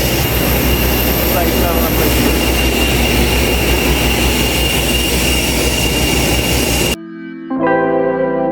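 A loud, steady roar of an Airbus A321 airliner's jet engines drones continuously, then cuts off abruptly near the end.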